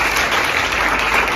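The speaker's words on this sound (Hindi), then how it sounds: "एक जोरदार ताली होना चाहिए।" An audience gives a burst of dense, steady applause, many hands clapping loudly at a talk or seminar.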